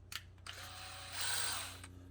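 A power drill spins up to twist wire into a hook hanger for a hand-carved wakebait lure, a steady close motor whine that rises in pitch midway before winding down.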